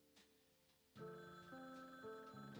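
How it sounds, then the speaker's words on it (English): A telephone rings inside the video game Frog Detective 3, its steady electronic ring starting after a faint opening and continuing loud and unbroken to the end, with no talk over it. "when faced with the ringing phone."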